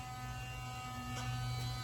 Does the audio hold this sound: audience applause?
no